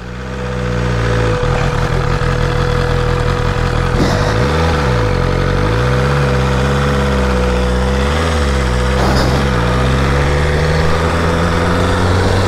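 A BMW S1000RR sport motorcycle engine idles loud and close, then its throttle is blipped in several revs that rise and fall, with no talking.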